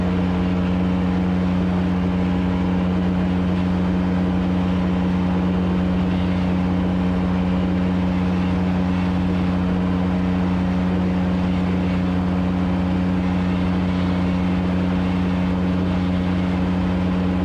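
A steady engine drone with a strong low hum runs throughout as a fast motorboat cruises up a river at constant speed, with no voices.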